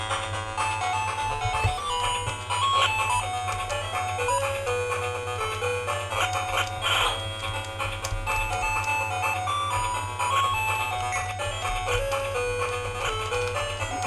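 Chiptune music from a role-playing game on a repaired retro Sega handheld, playing continuously and evenly with bright melodic tones over a steady low hum.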